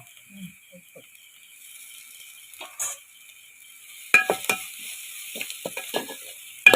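Onions with salt sauté in a pan: a quiet hiss at first, then clattering stirs and scrapes of a spoon against the pan, sharp and close, with no speech.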